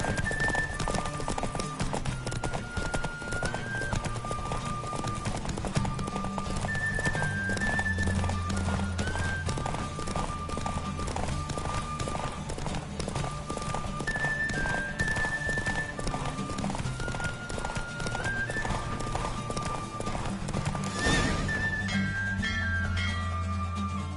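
Rapid clip-clop of galloping hooves runs continuously over game music in a Witcher game, with a horse whinnying briefly near the end.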